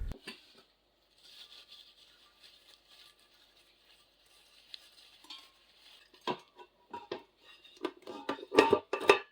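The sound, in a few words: pots placed into a larger pot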